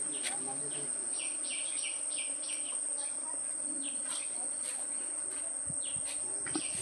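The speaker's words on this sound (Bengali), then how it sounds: "মৌমাছির গুঞ্জন, এইসবই শোনা যাচ্ছে।" Bees buzz around flowering trees in a forest, repeated short buzzing bursts over a steady high insect drone, with occasional faint bird calls and no voices.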